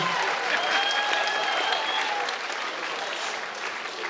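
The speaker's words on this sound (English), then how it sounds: "a big round of applause for both of these ladies, please, after 3 hard-fought rounds of action" Boxing crowd applauds after a hard-fought three-round women's fight, a continuous wash of clapping and cheering from a large audience, with a faint whistle or voice ringing over the noise.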